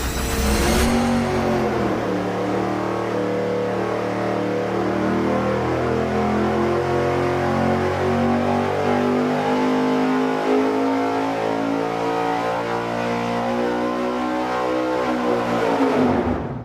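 An engine on a dyno fitted with a larger throttle body revs hard in one long, loud sustained pull, pitch climbing steadily before cutting off at the end.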